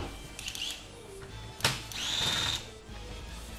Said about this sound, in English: Now we can proceed with removing all of these Phillips screws that hold the casing in here.